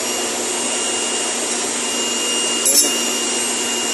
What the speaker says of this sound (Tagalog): Dahan-dahan natin buksan yung kanyang valve.